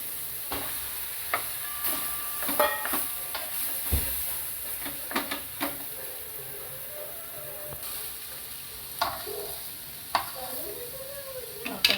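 Potato and paneer stirred and fried in a pan for a stuffed paratha filling: steady soft sizzle with repeated scraping strokes of a spoon against the pan, close and continuous, no talking.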